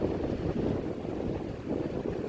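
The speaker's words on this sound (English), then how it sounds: "Can you hear that wind?" Strong wind buffets and rumbles steadily with a low, roaring gust on a lake shore below hills, and no voices are heard.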